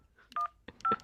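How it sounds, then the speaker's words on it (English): Telephone keypad dialing tones, three distinct beeps pressed in quick succession, close and clear with faint background noise. "stop dialing"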